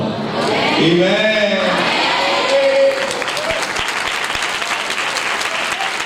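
Church revival meeting congregation in Dhamtari applauding loudly, with a sustained wash of clapping and crowd noise; a voice speaks or calls out over it early on before the clapping continues alone.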